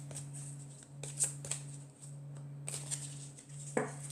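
Tarot cards being shuffled and drawn by hand: soft, close papery swishes and flicks in short clusters over a low steady hum, all quiet.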